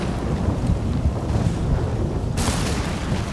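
Rain pours down in the Ghost of Tsushima video game, a dense, rumbling wash with a low thunder-like roar, steady and fairly loud, growing brighter and hissier toward the end, with no voices.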